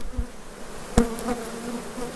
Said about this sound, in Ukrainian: Бджола бушують